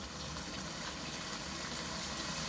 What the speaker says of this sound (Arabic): نص لتر او نص البريق هذا الماي الحار على حسب الكمية اللي انتم تبونها